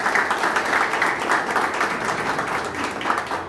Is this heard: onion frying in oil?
no